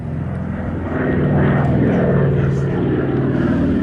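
An Avro Lancaster four-engine bomber flies past at an airshow, its piston engines and propellers making a loud, steady drone that swells slightly as it runs in, with faint talk in the background.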